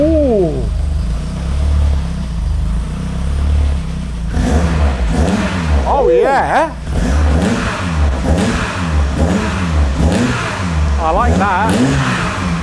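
A modified 1980s hot hatch with a new exhaust revs repeatedly, a zingy engine rising and falling in quick bursts. People talk and exclaim over the engine.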